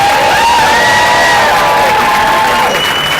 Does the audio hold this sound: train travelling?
no